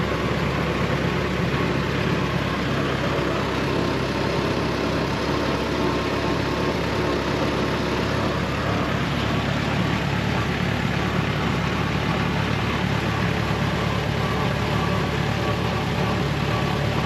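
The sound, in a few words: Ford Model T engine running smoothly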